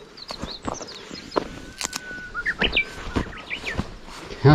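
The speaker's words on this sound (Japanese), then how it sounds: "いや、ウグイスがすぐ 目の前にいます。" A Japanese bush warbler calls close by in overgrown brush on a mountain slope during wild fern gathering, its short chirps and whistled notes scattered over rustling and footstep noises, with a louder thump at the end.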